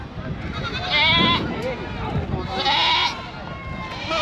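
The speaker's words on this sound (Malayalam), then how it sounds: "വലിയ ആടുകളാണ് ഇത്" Goats bleat loudly and close by at a livestock market in Kerala, two drawn-out wavering cries amid crowd noise, with someone talking over them.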